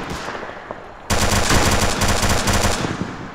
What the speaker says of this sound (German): Schöner Granatenschuss.